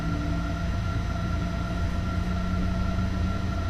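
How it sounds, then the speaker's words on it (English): A passenger train rolls past in the Train Sim World 2 game, a steady, even rumble with faint tonal hums of engine and carriages and no speech over it. "Holy crap, there's a passenger train."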